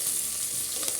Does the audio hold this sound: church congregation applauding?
no